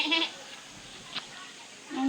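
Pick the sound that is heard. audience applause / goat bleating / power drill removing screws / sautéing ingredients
goat bleating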